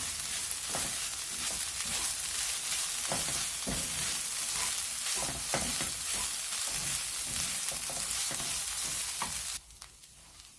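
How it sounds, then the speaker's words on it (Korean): Vegetables and tofu fried rice being stir-fried in a hot pan, a steady loud sizzle broken by repeated scraping and tossing strokes of the spatula, with no talking, the frying dropping away abruptly near the end. "여기에 볶아놓은 야채를 넣습니다. 예, 같이 섞어가며 볶아줍니다."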